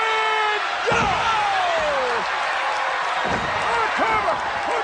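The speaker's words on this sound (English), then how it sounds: "Here comes the powerbomb." A heavy slam as a wrestler is driven into the mat by a powerbomb at a pro wrestling event, one sharp thud followed by a few further impacts, set against crowd noise and commentary.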